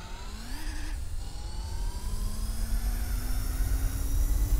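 A Nissan race car engine, R89C or R92CP, in Gran Turismo 4 holds a rising, whining drone with a gear change early on, then climbs steadily in pitch under constant road rumble.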